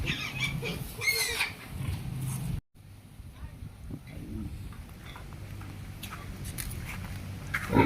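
Pigs, including boars, grunt and shuffle in their pens on a piggery farm, fairly faint and steady beneath someone talking nearby.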